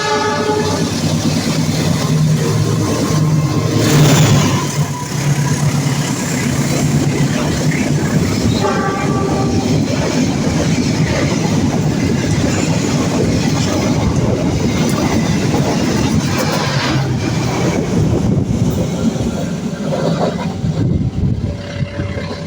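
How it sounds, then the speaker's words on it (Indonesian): The Papandayan passenger train passes straight through Maswati station, loud and close, with rumbling wheels, rhythmic clickety-clack over rail joints and a brief horn blast early on, the roar fading slightly near the end. "Mari kita saksikan kereta api Papandayan melintas langsung di stasiun Maswati"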